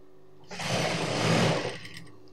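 A sewing machine runs one short burst of about a second while hemming a churidar pant leg, its whir rising and fading close by against a quiet background, with no talking.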